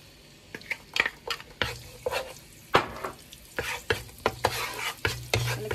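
Garlic and onion sautéing in oil for an egg curry, with a sizzle under repeated spatula scrapes and clanks against the pan that come in an uneven rhythm, close and moderately loud.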